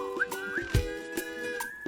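Melodic whistling carried through a song, with a few wavering sustained notes that slide up and down, held over steady backing instruments and punctuated by soft percussive hits.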